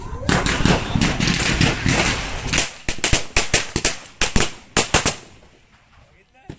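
Firecrackers burst across an open ground during a Diwali celebration, first a dense rapid crackling string, then a run of sharp separate bangs at uneven intervals, loud and close, fading to quiet at the end.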